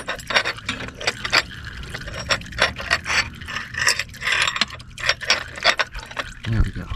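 A wrench works a nut on a TCI C6 transmission shift lever with repeated ratcheting clicks and metallic scrapes in an uneven rhythm, close by, with occasional speech.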